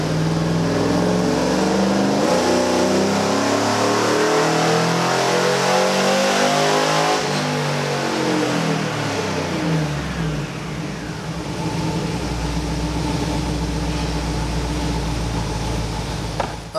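A Cadillac Escalade engine being tuned, revving hard, with pitch sweeping up and down through loud sustained pulls, close and dominant.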